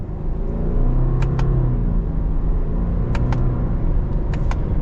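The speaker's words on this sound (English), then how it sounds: "So let's get our acceleration here from a standstill." A 2021 Subaru Crosstrek STI accelerating from a standstill, heard from inside as a loud, steady engine drone and road rumble that rises in pitch and is broken by quick gear shifts, with light clicks over it.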